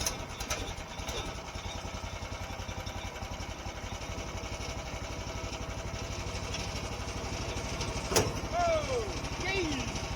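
A small sawmill engine idles steadily nearby with an even, rapid chugging pulse throughout. A brief clank sounds partway through, followed by short squeaky tones.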